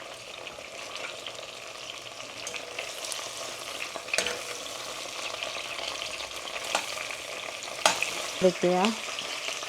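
Stuffed bitter gourd (karela) fries in a pan over a gas flame, giving a steady, close crackling sizzle throughout with occasional stirring scrapes and a few brief spoken words.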